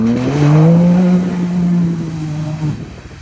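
UTV engine fitted with a Nova Racing valve system, roaring loud and close with a deep, steady drone that rises slightly, then cuts off sharply near the end.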